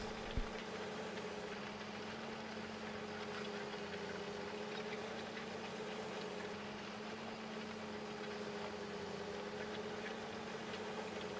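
Tractor engine droning steadily while hauling manure to a cow farm in Farming Simulator 15 on the Smoky Mountains map, a constant low hum with no change in pitch, alone and moderately loud.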